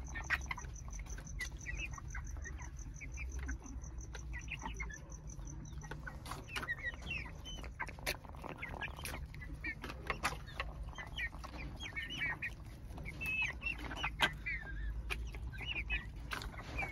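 Chicks sick with flu peep while eating and chickens cluck softly throughout, with small scattered taps and a low steady background hum.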